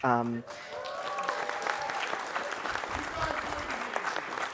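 A crowd applauds steadily, a dense wash of clapping that holds for several seconds after a brief voice at the start.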